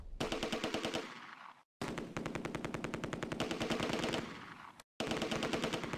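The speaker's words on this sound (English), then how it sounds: "Private Jacob's mortar detachment switches fire to target the MG-42." An MG-42 machine gun fires in Close Combat A Bridge Too Far, a World War II battle at Arnhem Bridge during Operation Market Garden, in long, loud, rapid bursts broken by two brief pauses.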